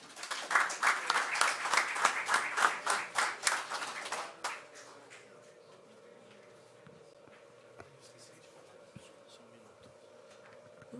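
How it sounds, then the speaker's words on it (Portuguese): An audience at a council chamber session claps for a speaker, a few seconds of close, rhythmic hand clapping that quickly fades into quiet room noise with faint rustling. "pedir uma salva de palmas para ele"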